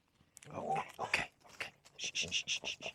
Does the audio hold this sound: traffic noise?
no